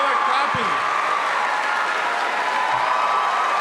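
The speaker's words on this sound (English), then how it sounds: "I don't know why y'all are clapping." An audience applauds at a live talk, a dense steady wash of clapping filling the whole stretch, with crowd noise and a voice faintly beneath.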